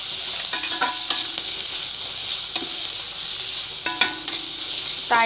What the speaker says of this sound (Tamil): பச்சை மிளகாயும் போட்டு வதக்கிடுங்க